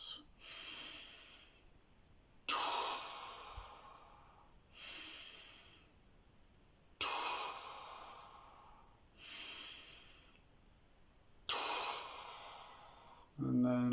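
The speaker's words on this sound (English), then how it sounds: "Couple more breaths." Deep, rhythmic breathing in a guided breathwork session: six long breath cycles, each a forceful inhale followed by a softer rushing exhale, close and clear with no other sound.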